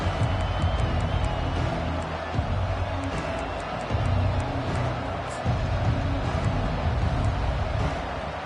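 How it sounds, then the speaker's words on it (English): A dense, loud stadium crowd roars steadily through a college football video game's opening kickoff, with broad continuous cheering and scattered whistle-like peaks, no clear breaks in the noise. "This crowd bringing an ear-splitting welcome to their visitors."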